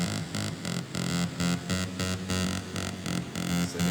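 A short, punchy synthesized bass line from a video game music track, pulsing in quick repeated notes with a steady rhythmic pattern, loud and up front, with no voices.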